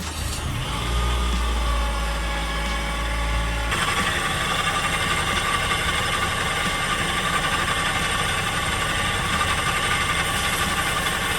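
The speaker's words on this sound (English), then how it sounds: "We'll start the engine up." A car engine fires up with a brief burst of low rumble, then settles into a steady idle with mechanical, ratcheting clatter that continues throughout at moderate loudness, with no talk.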